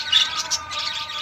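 Ornamental bird fledglings chirp while being moved into a new cage, giving rapid, high, thin tweets in a busy cluster close to the mic.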